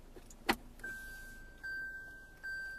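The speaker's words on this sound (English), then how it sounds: "For the self-tilt side mirror, it means that when you shift to reverse gear," The self-tilting side mirror motor on a Lexus RX300 hums quietly inside the car after reverse gear is selected, a soft click followed by two short whirring runs of the small electric motor in an otherwise quiet cabin.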